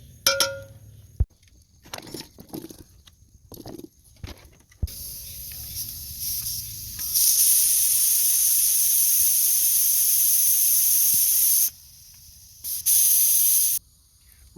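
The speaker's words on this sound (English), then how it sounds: "We just depressurized the pressure cooker" A pressure cooker releasing steam gives a loud, sharp, sustained hiss that cuts out briefly and then bursts back, preceded by light clinks and handling noises.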